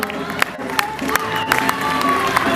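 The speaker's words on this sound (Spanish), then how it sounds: "Fuerte aplauso para Ondarroa." A crowd applauds the Ondarroa rowing boat crew at a river race, with steady clapping and scattered cheers mixed with loud crowd noise and sharp whistles, nearby and sustained.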